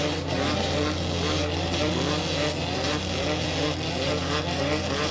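Car with an RB20DET 2-litre engine revving loudly and continuously, a dense steady engine roar with low harmonic drone, apparently in a ricer-versus-tuner setting.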